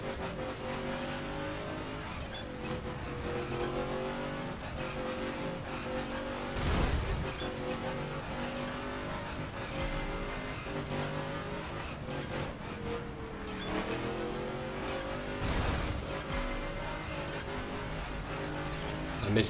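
A drag car running a slalom course in The Crew racing game, its engine droning steadily throughout with surges of revving and a couple of louder bursts, over a continuous bed of game music and effects.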